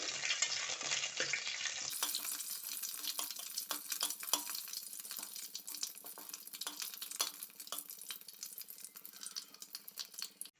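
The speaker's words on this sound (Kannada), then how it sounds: "ಓಕೆ ಫ್ರೆಂಡ್ಸ್, ಬೆಳ್ಳುಳ್ಳಿ ಚೆನ್ನಾಗಿ ಫ್ರೈ ಆಗಿದೆ." Garlic cloves frying in oil in a pan, a dense, steady crackling sizzle heard up close and fairly quiet, with an abrupt shift in tone early on and no voices.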